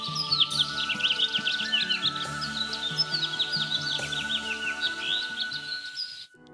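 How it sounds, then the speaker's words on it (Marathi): Dense chirping from house sparrows inside a village home in Kolkhed, Akola, many overlapping short tweets in a busy, continuous chorus, fairly close and steady throughout. "घरात मात्र कायम किलबिलाट असतो"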